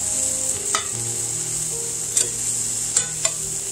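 Cod fillets fry in a skillet over medium-high heat, giving a constant close sizzle broken by a few light utensil taps, without any voices.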